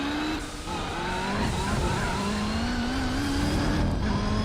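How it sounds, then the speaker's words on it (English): In Gran Turismo 4, a race car on super hard tyres squeals as it comes out of corners. A rising, wavering tonal screech sits over loud, continuous engine roar, and no one talks. "you hear the tyre squealing there coming out of the corners"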